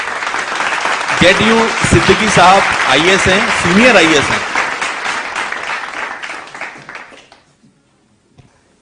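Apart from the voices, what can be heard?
audience applause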